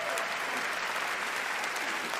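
Audience applause at an Emmy Awards talk event, a dense steady roar of many clapping hands filling the whole stretch, loud and sustained.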